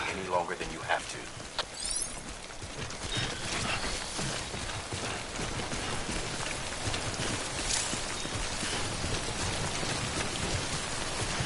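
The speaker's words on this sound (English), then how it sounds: "Don't stay out in the rain any longer than you have to." Timefall rain in the video game Death Stranding pours down as a steady, dense hiss for the whole stretch, with brief louder sounds and a faint voice early on before the downpour settles into an even wash.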